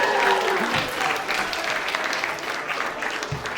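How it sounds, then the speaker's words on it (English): Audience applause fills a room after a mentalist's three-billet routine: a dense, steady wash of clapping hands that holds throughout, fairly close and loud, with a few brief voices and whoops mixed in. "Give him a huge round of applause."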